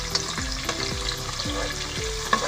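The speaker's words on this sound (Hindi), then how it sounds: "प्याज को हमने लाइट ब्राउन करना है।" Sliced onions frying to light brown in a pot for vegetable pulao, a loud continuous close sizzle with repeated stirring strokes and low scraping sweeps of a spoon, no voices.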